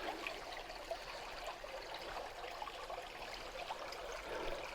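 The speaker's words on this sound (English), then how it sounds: "Love the sound of running water." Running water of a stream in the Tamar Valley, a steady soft rushing and trickling wash heard quietly outdoors, with no voices.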